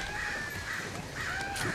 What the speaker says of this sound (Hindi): कितने कौवा उड़ रहा है